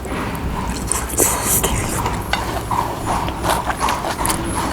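Hooves of a horse pulling a tourist carriage clip-clop steadily through a scenic, shady tourist town street, fairly close, with a rhythmic clatter over light background noise and no talking.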